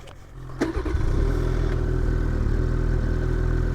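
A 2027 XRS 600RR snowmobile engine, VIN 001, runs nearby with a low, steady rumble that swells and holds at a strong, even idle-to-rev drone throughout.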